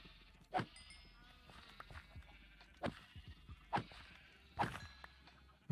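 Sheep in the video game Minecraft bleat several times in short, separate calls spread across the clip, fairly close, over faint game background sounds and without talk.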